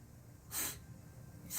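A voice imitates two short, sharp sniffs, close and separated by about a second, with no words spoken.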